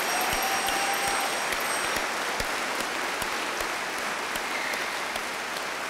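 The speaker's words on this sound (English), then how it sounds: "How about a nice round of applause for the Fredonia High School class of" A crowd at a high school commencement applauds the graduating class, a broad, continuous roar of clapping from a large audience with a few sharper individual claps standing out.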